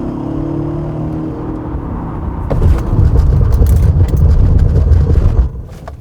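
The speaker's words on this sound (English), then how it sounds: "let's check out the braking performance of this Audi S6 then. A little bit more speed." A 2021 Audi S6 drives with a low engine hum and tire roar that swells as it speeds up, then drops away as the car brakes hard, heard close and loud with no talking.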